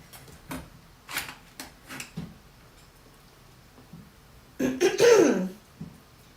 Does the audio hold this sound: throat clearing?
yes